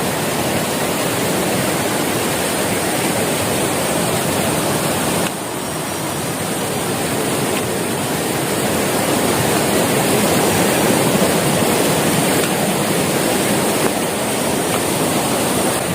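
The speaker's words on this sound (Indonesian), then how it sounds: "Ini adalah aliran air dari air terjun Ciberem" A small stream fed by the Ciberem waterfall on a mountain hiking trail rushes continuously, a loud, broad, unbroken roar of flowing water close by with no pauses.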